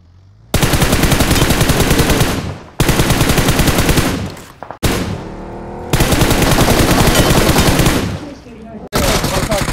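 Rapid automatic gunfire from an Apex Legends esports match, loud and dense, in long sustained bursts with short gaps between them and no talk over it.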